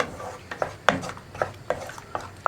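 Tomato paste for a beans and carrot curry is stirred in a pan, giving a series of soft scraping rubs and light utensil knocks roughly every half second, close and moderately quiet, with no voices.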